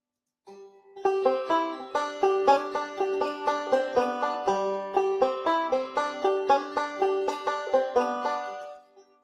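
A banjo picks a melodic phrase from a bluegrass tune, a steady stream of bright plucked notes with crisp attacks ringing alone and up close, with no voices.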